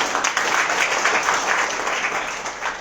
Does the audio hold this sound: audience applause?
yes